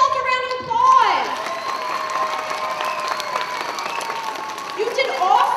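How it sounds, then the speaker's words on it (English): Kindergarten through second-grade children applaud together at a school assembly, a dense crowd clapping in a large room with a few high voices and shouts rising over it. "So give yourself a round of applause."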